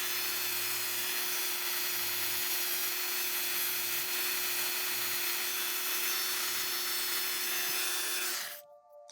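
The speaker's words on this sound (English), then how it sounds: "I'm going to go ahead and use some sandpaper" Hand sanding a lock pin with 400 grit sandpaper, a steady continuous rubbing hiss that runs close and unbroken for about eight seconds before stopping abruptly, with no talk.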